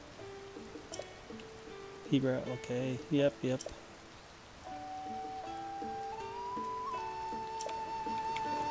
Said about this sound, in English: Will the rain ever let up?